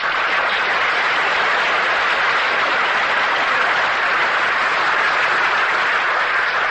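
A studio audience on an old-time radio drama broadcast applauds in a loud, even, continuous roar of clapping, heard with the muffled, narrow tone of a vintage recording.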